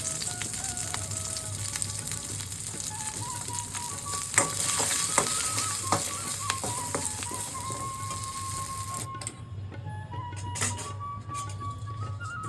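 Slit green chilies and asafoetida fry in hot oil for a vegetarian cauliflower khichdi, a constant sizzle with occasional utensil clinks. The sizzle quietens briefly toward the end.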